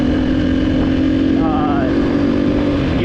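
The 350 cc engine of a 2024 GasGas ES 350 motorcycle drones loudly and steadily up close, with a brief wavering pitch shift partway through and no clear speech.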